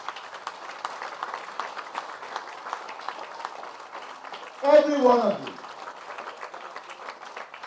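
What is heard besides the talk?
audience applause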